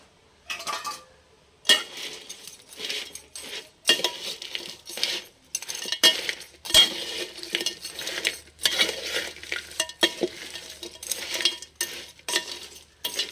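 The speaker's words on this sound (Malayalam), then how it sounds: "ഇനിയേ ഇതെല്ലാം കൂടെ ഒന്ന് ഇളക്കി കൊടുക്കുക" Crab pieces with a pinch of salt being stirred in a pan, a spoon scraping and clinking against the metal in repeated bursts with brief pauses and a light sizzle underneath.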